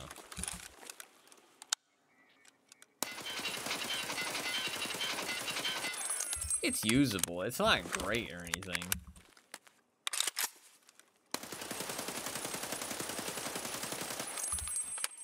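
Bursts of AK-101 rifle fire in a shooter game, sustained automatic volleys in several separate stretches with quiet gaps between, while someone talks over parts of it.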